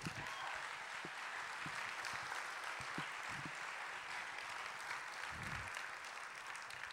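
An audience at a 2007 NCMR conference talk applauds steadily and continuously, a dense wash of clapping that sounds somewhat distant and soft, with faint murmurs underneath.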